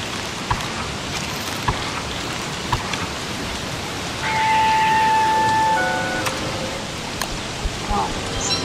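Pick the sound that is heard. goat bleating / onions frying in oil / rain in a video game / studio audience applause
rain in a video game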